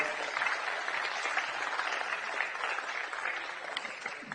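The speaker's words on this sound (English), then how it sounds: "Big round of applause for Thijs Raukens." Steady crowd applause at a basketball match, dense and continuous clapping from many hands throughout, fairly even in level without a clear start or finish.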